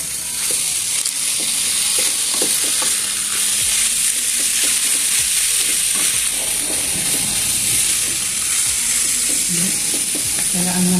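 Sotanghon noodles sizzling in a small frying pan as they are stirred, a continuous hiss of frying broken by repeated scraping and clinking strokes of the utensil, close up and steady.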